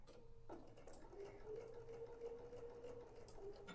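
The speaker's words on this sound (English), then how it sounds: "just continue on sewing each of your pairs" A sewing machine stitches hoodie pieces together in a steady, close, continuous mechanical hum with a fast rhythmic ticking, heard alone.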